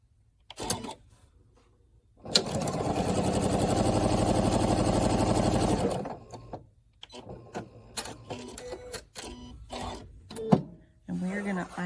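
A sewing machine stitching peach and green small quilt squares together runs in one steady, close, fast-rattling burst of a few seconds. Before and after it come handling clicks and a person talking.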